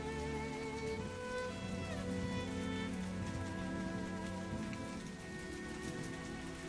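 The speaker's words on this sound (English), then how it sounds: "It's raining heavily." Heavy rain falls in a constant, dense wash on surfaces, steady and loud throughout, with a faint tonal hum beneath it.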